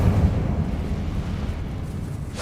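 The Incendio fire spell in Hogwarts Legacy roars as a continuous low, rumbling burst of flame, loud and dense with no gaps, trailing off slightly toward the end.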